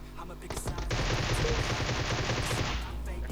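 Automatic bursts from a Groza assault rifle in the mobile battle royale game PUBG Mobile, a loud, sustained string of rapid close-range gunshots lasting a couple of seconds.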